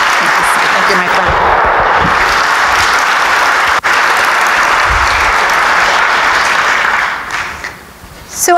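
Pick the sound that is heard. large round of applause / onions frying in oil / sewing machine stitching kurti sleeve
large round of applause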